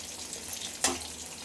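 Potatoes frying in a pan, a soft steady sizzle with one brief louder crackle or clatter partway through, close and fairly quiet.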